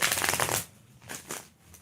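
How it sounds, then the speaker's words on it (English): Tarot cards are being shuffled by hand in a quick riffling burst, followed by a few softer card slaps and rustles close to the microphone. "Y'all see how that didn't want to shuffle?"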